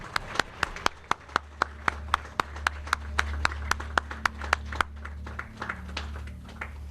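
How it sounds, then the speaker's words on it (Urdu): Audience clapping at a ceremony for the Punjab chief minister: a slow, evenly spaced run of crisp individual claps over a low steady hum, the rhythm loosening and scattering toward the end. "ایک بار تالیاں ہونی چاہیے everyone."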